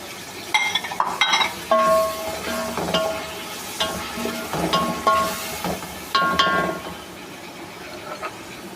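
Garlic, ginger and green chilli paste frying in a pan for chicken pulao, with a low sizzle broken by intermittent stirring scrapes and light metallic clinks of a spoon against the pot.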